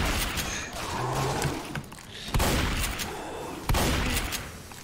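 Gunshots striking the player in Left 4 Dead, with two sharp broadband cracks ringing out over a busy game backdrop.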